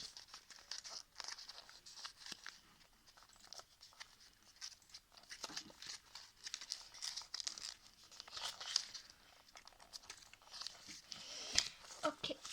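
Paper crinkling and creasing as a paper frog is folded by hand, soft close-up rustles and sharp crackles in irregular bursts, fairly quiet throughout.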